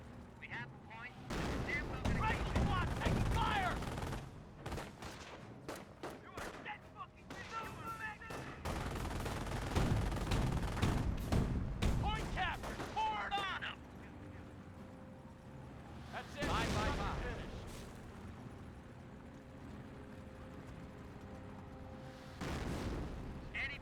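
An artillery barrage in Company of Heroes, with repeated loud blasts and rolling gunfire bursts spread across the stretch, several heavy impacts standing out, while someone talks over much of it.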